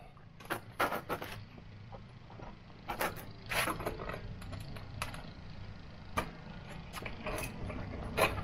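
E-bike being folded up for loading: a close series of metallic clicks, clanks and latch rattles in irregular bursts, with quieter mechanical shuffling between.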